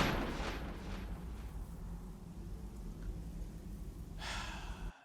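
Gunfire from pulling the trigger in the video game Metal Gear Solid Delta: Snake Eater, with a sharp burst at the start and another near the end over a low rumbling game soundscape.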